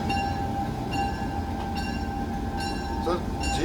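A passenger train rolls steadily along the rails, heard from inside a car near the front, with a constant rumbling drone and periodic rhythmic clacks of wheels over rail joints, and voices faintly underneath.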